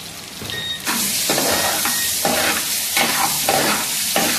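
Cubed chicken dropped into hot oil with chopped garlic sizzles loudly in a pan, with several scraping stirs across the surface, close and continuous, no voices.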